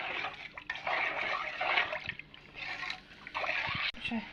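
Pickle brine is stirred in a pot while preparing winter cucumbers: a steady watery swishing and sloshing runs close and fairly loud throughout, with a few brief knocks and faint voices in the background.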